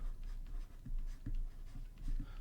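A pen writes on paper while working a math problem, producing several short scratchy strokes in bursts, close and quiet, with no talk.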